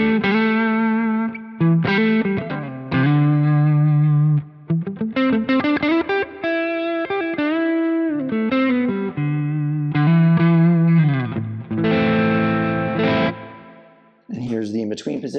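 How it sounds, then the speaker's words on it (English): Squier Paranormal Nashville Telecaster played through its neck pickup with a gainy, distorted tone, sustained chords and single notes ringing out loud and close for about fifteen seconds, with brief gaps between phrases. "Here's a gainier tone. I'm back on the neck pickup."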